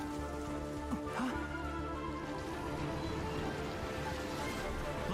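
Rain falls steadily in a Genshin Impact game scene, a dense hiss of drops with a low game tone underneath, constant and fairly quiet for the whole stretch.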